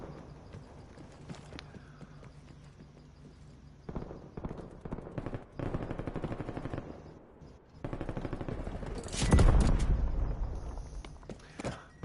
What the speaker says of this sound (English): Notice that sometimes I switch from a short range to a long range gun